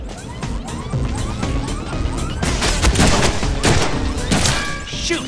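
Gunfire in the Deadpool video game, rapid bursts of shots and impacts cracking in quick succession over a busy game soundtrack, fairly loud and continuous.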